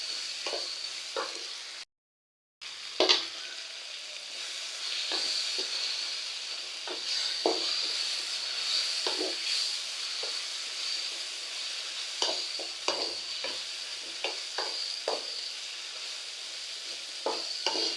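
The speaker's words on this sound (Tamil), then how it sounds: "இஞ்சி பூண்டு பேஸ்ட் நல்லா பச்சை வாசனை போக நல்லா வதக்கிடலாங்க" Ginger garlic paste sizzles and fries in a pan for a village-style chicken curry, with steady hissing and frequent scraping stirs of a spoon throughout, close and continuous, no talking.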